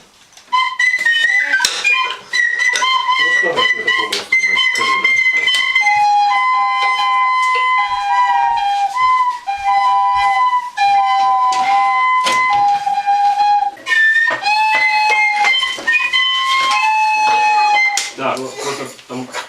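A Ukrainian sopilka, a wooden flute, plays a series of clear, breathy whistling notes, shifting between pitches in a simple melodic line, close and fairly loud.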